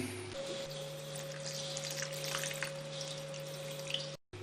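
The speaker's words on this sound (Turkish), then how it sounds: "700 gram su koyacağız." About 700 grams of water poured steadily into sourdough bread dough in a kitchen, a continuous soft splashing stream under a low electrical hum that ends abruptly.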